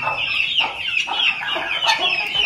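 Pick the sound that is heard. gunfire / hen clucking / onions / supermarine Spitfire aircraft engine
hen clucking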